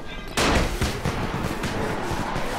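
Firecrackers go off in the zombie game Dying Light, a sudden loud burst of rapid cracking pops that continues as a dense, rattling crackle for a couple of seconds.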